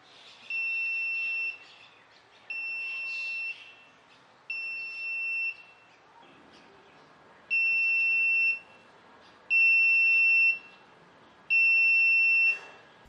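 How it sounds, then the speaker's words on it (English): Buzzer on the receiver of an Arduino LoRa swimming pool monitoring system sounding in six loud, steady electronic beeps of about a second each, evenly spaced and alone. "its system triggers and buzzer on the receiver's side turns on"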